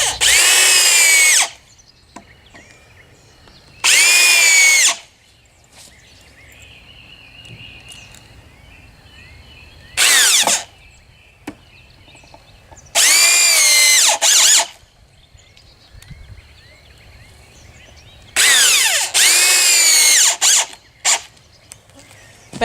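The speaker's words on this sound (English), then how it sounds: "now I'm just going to drill some pilot holes and then put my screws in" A power drill whines in five short bursts separated by pauses, drilling pilot holes in wood, loud and close, with faint clicks and rustling between runs.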